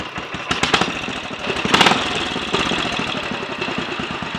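A Royal Enfield 500 single-cylinder motorcycle engine runs after adjustments, its loud steady chugging with distinct firing pulses and brief rough bursts of revving, heard close up without talk.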